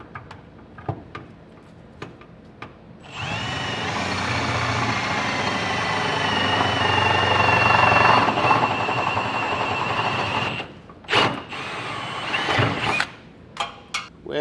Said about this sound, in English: We'll drill from the bottom up and get all 4 of them done